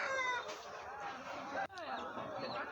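A large pedu rooster at a poultry market crows with a drawn-out call in the first half-second, then trails off beneath steady crowd chatter and market bustle that continue throughout.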